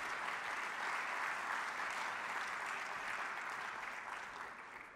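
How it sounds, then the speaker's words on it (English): A sports forum audience gives a big round of applause for a panel, steady dense clapping from many hands, heard alone at moderate distance and fading slightly at the end. "a big round of applause for what we heard so far from all our panelists"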